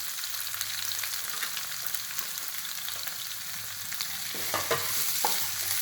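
Sliced large onions sauté in a pan for a soya chunk and potato fry, giving a steady close sizzle with scraping stirs that grow a little busier near the end, and no voices.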